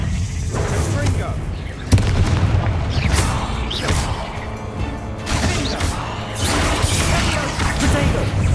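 Confringo fire spell explosions in Hogwarts Legacy, several loud booming blasts and crashes over a dense, continuous game soundscape, with a voice casting spells between them.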